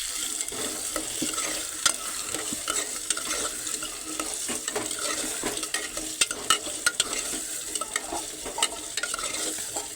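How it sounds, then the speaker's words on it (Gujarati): Spoon stirring potatoes in a pressure cooker over a low gas flame, with steady scraping and clinking strokes and light sizzling throughout, close and continuous with no talk. "કુકરને 2 હાથે 1 હાથેથી પકડી અને ચમચીથી હલાવી દેવાનું"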